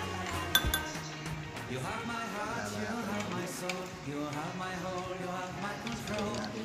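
Tube ice clinks and rattles into a glass for homemade yellow label DIY milk tea, a few bright knocks near the start and then faint clinking, while a voice talks throughout.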